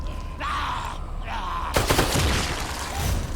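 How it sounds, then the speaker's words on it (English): A burst handgun in The Evil Within 2 fires sharp, close gunshots in quick succession, preceded by a brief tonal whine, with the sound ringing briefly afterward. "because it shoots in bursts of 3 bullets at a time, it might consume a lot of ammo"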